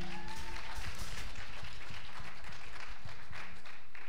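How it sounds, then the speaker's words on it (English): Wedding guests applauding the groom, a scattered round of clapping with some crowd murmur underneath, fairly quiet and fading over a few seconds. "Clap for him."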